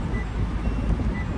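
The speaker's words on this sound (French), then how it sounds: "C'est moi qui sonne, j'ai pas mis ma ceinture encore, je viens juste de monter dans la voiture." A car's seatbelt warning chime for an unbuckled driver who has just got in, faint high beeps repeating about once a second over a low, steady engine rumble inside the car.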